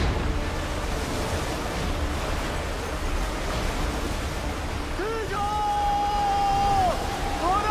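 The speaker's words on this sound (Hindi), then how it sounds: "पर हमने भयानक पानी आते देखा।" Flood water rushing into a mine in a Hindi movie scene, a steady loud roaring wash that never lets up, joined near the end by a thin high whistling tone.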